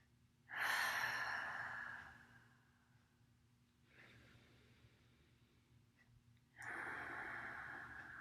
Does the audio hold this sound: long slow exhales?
yes